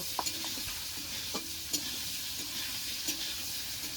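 Potatoes sizzle steadily as they fry in a pan, with a spatula scraping and stirring in several distinct strokes over the continuous hiss, close and fairly quiet.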